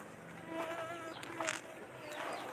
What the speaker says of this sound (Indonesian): Lalat banyak ini.